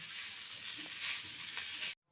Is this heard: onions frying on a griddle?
yes